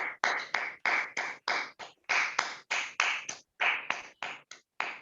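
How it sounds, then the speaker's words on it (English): Clapping in an online Toastmasters club meeting, heard as a steady run of sharp, close handclaps from one or a few people, evenly spaced with brief gaps, and no talking. "Let us unmute and give a good round of applause to our General Evaluator, Toastmaster Jose Paul, and all other role takers this evening"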